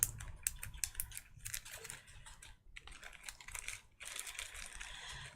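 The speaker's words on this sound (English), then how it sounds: "Chris, do you want to type up the website for me again?" Rapid typing on a computer keyboard during a live chain maille chat, a steady run of clicky keystrokes with brief pauses, close and fairly loud, no talking.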